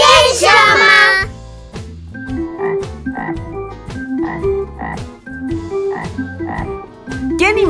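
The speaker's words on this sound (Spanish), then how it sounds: "¡Es el sapo!" A cartoon toad croaks in a children's sing-along game, a steady series of loud, rhythmic croaks over a bouncy musical backing, opening with a bright jingle and ending with a short musical flourish.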